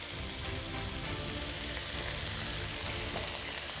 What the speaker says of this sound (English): So now we're going to add a tablespoon of the sesame oil